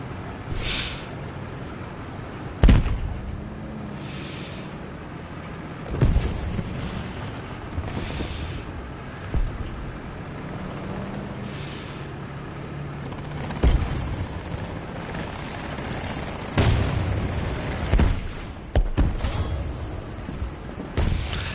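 Artillery and explosions in the tank battle game War Thunder: heavy booms land every few seconds over a rumbling battlefield bed, some close and sharp, others duller and farther off.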